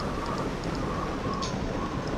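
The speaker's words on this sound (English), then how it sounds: "Oh, it's raining." Steady rain in Minecraft with the Tekkit modpack, a soft even hiss of falling water with faint bird-like chirps over it.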